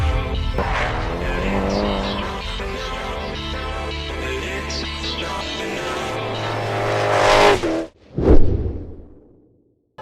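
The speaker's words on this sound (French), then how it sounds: "de plus en plus d'angles, de plus en plus de vitesse et bien sûr un nuage de fumée dont il a le secret avec cette voiture de plus de 1000 chevaux" A drift car with over 1000 horsepower slides at a circuit event with its tires smoking, its engine roaring loud and sustained before a sharp whoosh as it passes close, then fading to near silence.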